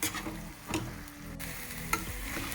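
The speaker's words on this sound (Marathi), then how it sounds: "हे चिकन आपल्याला दहा ते बारा मिनटं नीट हलवून घ्यायचं आहे" Chicken being stirred through Malvani masala in a pan, a close sizzle under scraping strokes of a spoon with a few sharper knocks, no voices.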